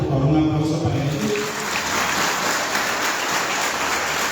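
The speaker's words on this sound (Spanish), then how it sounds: "por favor un aplauso para ellos" Crowd applause for the musicians at a 65th birthday party, a dense, steady wash of clapping that stays loud and continuous throughout.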